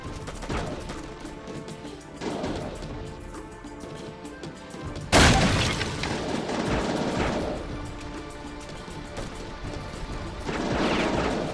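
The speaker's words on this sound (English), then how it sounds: "Big explosion in 12C. Repeat, big explosion in 12C." A sudden loud blast bursts in midway through busy combat noise in the game Heavy Fire: Afghanistan, then its rumble and debris linger before fading back to steady background action.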